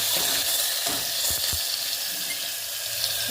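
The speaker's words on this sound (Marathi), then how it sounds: "अद्रक लसणाची फोडणी देऊन घेऊ, म्हणजे चांगले लागते." Ginger and garlic sizzle in hot oil as a tempering for a village-style mutton curry, a loud, hissing wash of frying noise with a couple of brief clatters near the middle.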